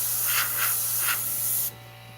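Steady airbrush spray hissing paint onto a burning matchstick image, with a few louder pulsing bursts before the airflow cuts off abruptly near the end, leaving a faint background hum.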